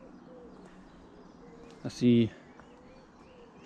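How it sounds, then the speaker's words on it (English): Birds sing and coo faintly outdoors on a spring day, with soft, distant calls throughout and a brief spoken remark breaking in near the middle. "Birds are singing."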